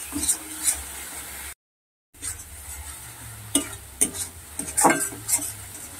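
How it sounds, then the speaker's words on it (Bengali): Spices with salt and coriander powder frying in a pan, stirred with a utensil: scraping clinks and soft sizzling under a steady hiss, broken by a short silent gap, with clustered metallic scrapes toward the end. "এবার সবগুলোকে একসঙ্গে আমি ভেজে নেব।"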